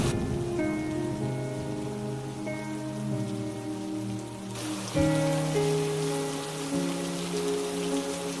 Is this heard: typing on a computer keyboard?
no